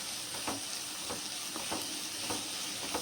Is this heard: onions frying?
yes